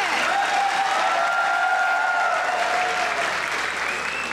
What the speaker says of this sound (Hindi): मैं बजाती हूँ आपके लिए ताली।